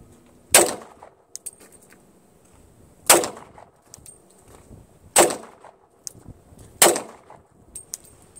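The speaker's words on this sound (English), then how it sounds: "Shooting." Four loud, sharp gunshots from a newly bought gun ring out outdoors, spaced a couple of seconds apart, each with a short echoing tail and faint clicks of handling between them.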